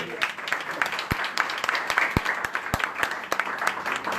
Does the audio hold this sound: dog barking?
no